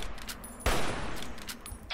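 One sharp gunshot cracks out in Fallout New Vegas against a dense, noisy game soundscape, with faint ticks and thuds before and after the shot.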